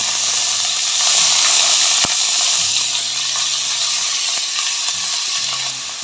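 Onions sizzle loudly in hot oil with whole cinnamon, cloves, cardamom and fennel for a chicken gravy, a dense continuous frying hiss close up with occasional faint clinks and stirring.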